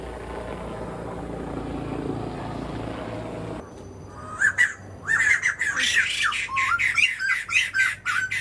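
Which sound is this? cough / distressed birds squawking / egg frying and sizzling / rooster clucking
distressed birds squawking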